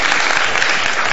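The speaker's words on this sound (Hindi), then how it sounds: "हर चीज पे तालियां बजाएंगे।" Dense, loud applause from a studio audience on a morning talk show fills the whole stretch, steady and close, with no clear talking over it.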